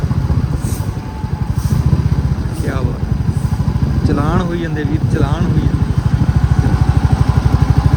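A motorcycle cruises along a highway with a steady, close engine thrum and a pulsing low beat. A rider talks over it, and brief higher tones pass in the background.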